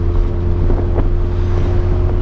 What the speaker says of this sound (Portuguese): Se vocês precisarem barulho de vento é porque os vidros tá baixado